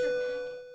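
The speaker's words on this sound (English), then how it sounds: "As the bell rang, signaling lunch" A school bell rings to signal lunch, one sustained electronic ding tone that starts loud and slowly fades over less than a second, with no talk.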